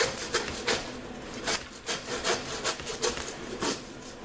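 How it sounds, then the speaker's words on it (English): A hand saw cuts through the center of pig ribs during butchering, making short rasping strokes in a steady back-and-forth rhythm, close and fairly quiet with no talk. "Then you lay your saw in there. Take little bitty short strokes because you're going to cut through the center of the ribs."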